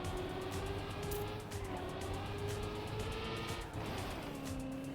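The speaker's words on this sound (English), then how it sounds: "Okay, that's a drift." Car drifting in the racing game Trackmania: a sustained engine drone with tire squeal sliding in pitch, continuous and fairly loud.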